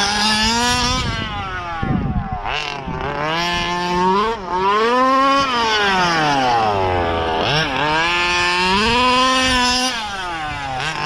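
A 1/5-scale gas RC Baja with a clone carburetor screams at about half throttle, loud and close, its two-stroke pitch climbing and falling through repeated bursts of acceleration with no talking.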